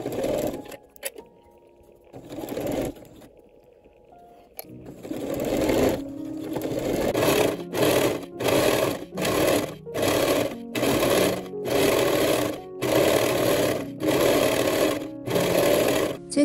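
Sewing machine stitching the inner leg seam of wide-leg trousers, joining the front and back pieces. It starts with a few short runs, then settles into a steady rhythm of stitching bursts with brief pauses, close and clear.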